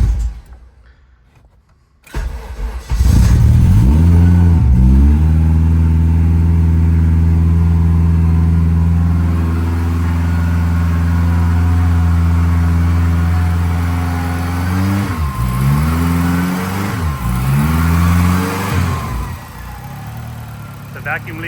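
An AWD car's K24 engine cranks and catches on its first start, settling into a loud, steady idle with rising revs and harmonic whine, then two brief blips of throttle near the end.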